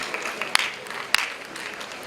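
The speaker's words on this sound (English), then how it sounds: "A huge round of applause for both President and Vice President of MEMS Alumni Association." A brief burst of audience applause for the vice president of the MEMS Alumni Association at an alumni meet. Steady hand clapping comes from a gathered crowd, with a couple of sharper claps standing out.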